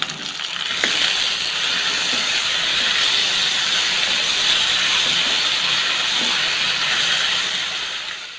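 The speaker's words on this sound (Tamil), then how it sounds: "தக்காளி நல்லா வதங்கிடுச்சு," Onions and tomatoes fry in a pan for egg gravy with a loud, steady sizzling hiss that carries on without a break, close by and with no voices.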